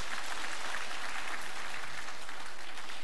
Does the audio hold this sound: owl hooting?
no